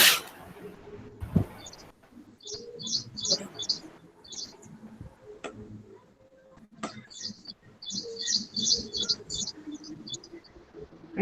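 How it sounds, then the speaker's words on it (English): Birds chirp in short bright bursts somewhere in the background of an online call, faint and intermittent over low room noise. "I can hear birds chirping"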